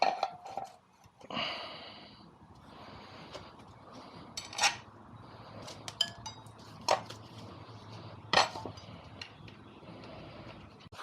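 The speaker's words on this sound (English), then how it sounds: "now I'm going to have to take some links out of the chain" Metallic clinks and taps of tools working on a motorcycle chain from a Yamaha TT-R250 being converted to 350cc, with a few sharp bright clicks standing out over a low background hum.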